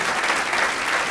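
An audience at a municipal council ceremony in Penacova claps steadily, a dense, even wash of applause filling the whole short moment with no pauses.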